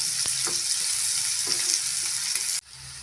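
Onions sautéing in a pan for a broccoli stir-fry, a steady close sizzle with a few soft spatula scrapes, cutting off abruptly near the end.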